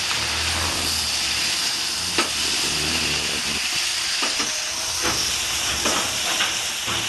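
Young jackfruit curry cooks in a pan with a steady broadband sizzle and hiss, broken by a few sharp clicks and scrapes as it is stirred; the sound is close and constant, with no talking.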